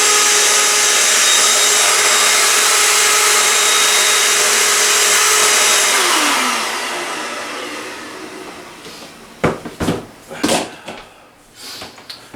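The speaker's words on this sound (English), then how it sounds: "I need to vacuum out the inside part here where the super drive was" A vacuum cleaning out the inside of a Mac Pro case where the SuperDrive was: a loud, steady whirring roar for about six seconds that winds down and fades, followed by a few sharp knocks and handling clatters.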